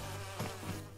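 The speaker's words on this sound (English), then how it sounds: "it's enough to get us some of the bees, but not all of the bees" Bees buzzing in the Crash Bandicoot: Cortex Strikes Back video game, a close, droning insect hum with small pulses in the buzz over about a second.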